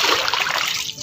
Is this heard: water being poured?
yes